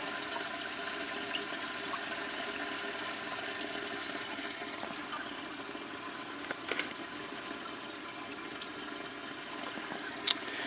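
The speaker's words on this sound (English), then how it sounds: "the whole tank and bowl combination is just filling, and it'll keep filling until the tank simply gets back up to the high water level" Low-profile lowboy toilet tank and bowl refilling after a flush, a steady close hiss of running water with gurgling that continues evenly throughout, with a couple of faint clicks near the end and no talking.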